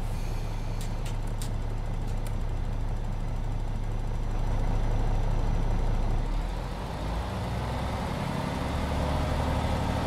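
A 12-cylinder truck engine with a sound mod in Euro Truck Simulator 2 rumbles steadily, a deep low drone that holds throughout, with a few sharp clicks near the start.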